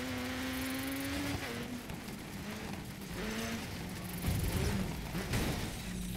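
Rally car engine in the Dirt 3 video game, a steady droning tone that rises and falls with shifting revs and throttle, quiet overall, with a burst of gravelly rumble and clatter toward the end.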